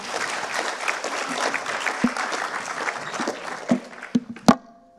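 Audience at a prize-giving finale applauds steadily, a dense wash of many hands clapping that thins toward the end, with a few loud nearby claps standing out.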